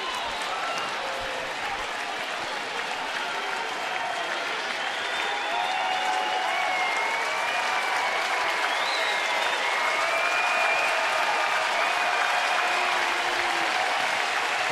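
A loud baseball stadium crowd of around 17,000 cheers and claps continuously at a Seattle at Baltimore game, a broad roar with scattered whistles and shouts swelling slightly toward the end.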